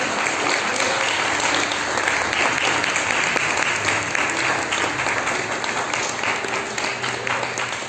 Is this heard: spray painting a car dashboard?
no